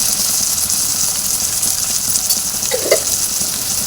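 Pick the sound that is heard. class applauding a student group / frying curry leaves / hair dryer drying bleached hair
frying curry leaves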